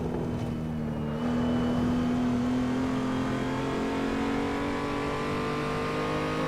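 A race car engine on the Nürburgring Nordschleife in the Assetto Corsa racing game drones steadily, its pitch rising gradually as it accelerates, loud and continuous with no talk over it.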